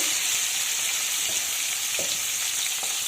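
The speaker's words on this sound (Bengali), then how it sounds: "এবার আমি কেটে রাখা বেগুনের টুকরো তেলের মধ্যে দিয়ে দেব" Cut eggplant pieces fry in hot oil with a dense, even sizzle and occasional soft pops and crackles, close and steady throughout with no talking.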